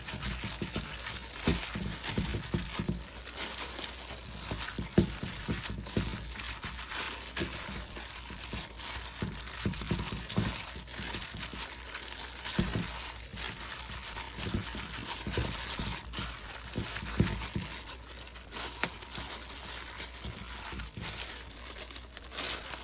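Gloved hands knead ginger-seasoned food with latex gloves under plastic ones, giving a steady run of wet crinkling, squishing and slapping, close and moderately loud, with no talking.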